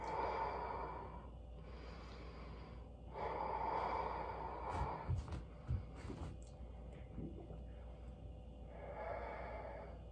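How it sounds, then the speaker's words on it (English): During a home workout, someone takes slow, deep breaths up close, with three long airy exhales spaced several seconds apart and a few soft rustles and snorts between them. "Couple of deep inhales and exhales."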